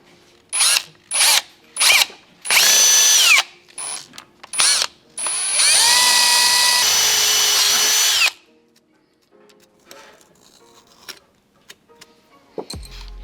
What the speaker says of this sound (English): we're gonna start with a smaller drill bit because it isn't really a flat surface